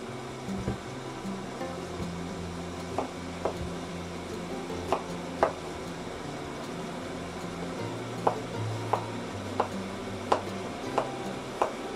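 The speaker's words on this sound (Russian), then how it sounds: "И начну резать сейчас овощи крупными кубиками." Knife chopping vegetables into large cubes on a board in a home kitchen, a series of sharp, fairly close taps spaced irregularly over a low steady background hum.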